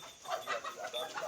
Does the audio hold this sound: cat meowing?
no